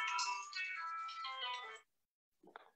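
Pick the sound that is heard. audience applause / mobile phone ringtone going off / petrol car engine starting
mobile phone ringtone going off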